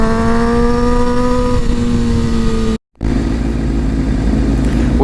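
Group of about nine motorcycles riding together, engines droning loudly and steadily nearby, one bike's tone falling as it passes, then a brief dropout before the rumble of the pack returns.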